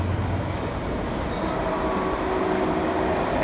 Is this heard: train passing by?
yes